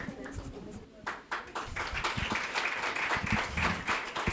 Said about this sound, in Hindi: अभी हम ज़ोरदार तालियां बजाकर इनका वेलकम करेंगे